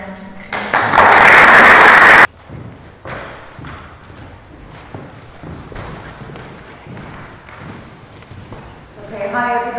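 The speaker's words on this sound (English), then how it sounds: "let's give them a round of applause." Audience applause at an artistic talk: a short, loud burst of clapping that cuts off abruptly, followed by quieter thumps and shuffling in the room.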